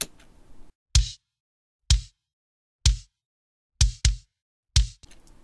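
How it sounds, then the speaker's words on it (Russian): A kick drum after EQ in a mix, punchy with a firm low end and a bright click attack, boxy midrange cut, hit six times at a roughly steady pace, close and isolated. "И в итоге бочка начинает звучать вот так."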